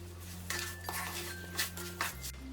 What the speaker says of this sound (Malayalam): ഈ എടുത്തു വെച്ചിരിക്കുന്ന പഞ്ചസാരയും ഫുഡ് കളറും കൂടി ചേർത്ത് ഇത് നല്ലതുപോലെ ഇളക്കി കൊടുക്കാം